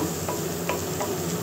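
Garlic and onion sautéing in a small amount of oil in a pan, giving a soft, steady sizzle with faint crackles and a few light clicks, heard close with no talking.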